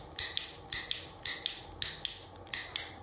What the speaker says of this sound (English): Here is a Clicker Expo branded Karen Pryor Academy clicker.